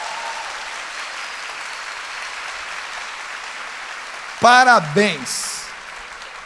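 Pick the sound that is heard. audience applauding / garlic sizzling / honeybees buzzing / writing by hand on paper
audience applauding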